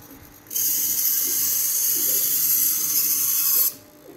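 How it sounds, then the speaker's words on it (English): A small hobby servo spins a dowel back and forth inside a droid gadget, giving a loud, steady high-pitched electric whine that starts abruptly, holds for about three seconds, then cuts off. "this hobby servo right here spins back and forth."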